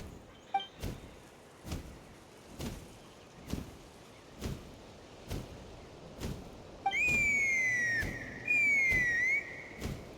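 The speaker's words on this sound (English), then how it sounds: "That sounded like a whistle." A whistle sounds in the video game Genshin Impact, a sliding two-part tone near the end, first rising then falling, following a series of regular dull thumps about every second.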